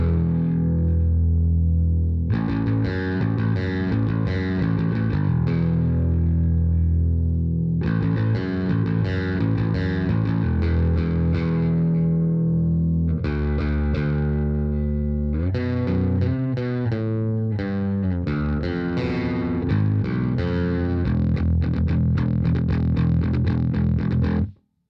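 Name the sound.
bass guitar bridge pickup through Peavey Max bass preamp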